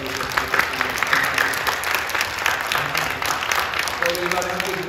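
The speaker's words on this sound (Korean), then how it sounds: "먼저 뜨겁게 박수 한번 주시겠습니다" A church congregation applauds warmly during an evening prayer service, dense clapping that stays loud and sustained throughout, with faint speech underneath.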